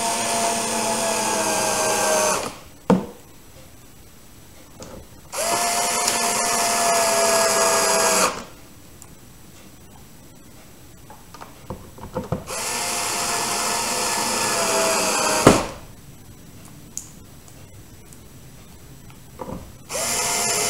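A power screwdriver drives four screws back into a car pedal assembly while its return spring is replaced, giving four separate whirring bursts of about two to three seconds each, close by and loud, with quiet gaps between them.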